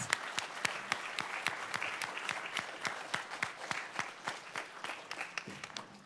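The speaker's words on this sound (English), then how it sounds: "Can we get a huge round of applause for all of our panelists?" Conference audience applauding panelists at a biology event, a steady wash of many hands clapping with sharp individual claps standing out, moderately loud and continuous with no talking.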